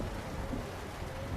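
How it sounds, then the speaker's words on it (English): Steady rain in American Truck Simulator, a dense, even hiss with low rumble running unbroken through the short stretch, close and constant with no talk over it. "I hate this rain because I can't see."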